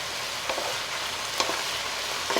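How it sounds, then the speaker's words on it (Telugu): Tomatoes hit a pan of raw prawns and okra for a tamarind stew and sizzle close up as a steady, even frying hiss, with a few soft stirring knocks on top and no talk. "ఇప్పుడు ఈ టైంలో టమాటా వేస్తున్నా"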